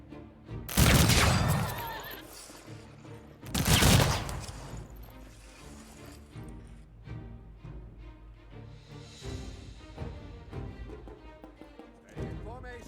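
Musket volleys fire in Humankind, as two loud massed bursts crack out a few seconds apart, each rolling into a ragged crackle, with battle music and voiced orders in between.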